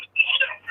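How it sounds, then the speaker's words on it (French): Mobile phone ringing during a live broadcast, a short close electronic ring tone in two brief bursts separated by a gap, with no talk over it. "C'est mon téléphone."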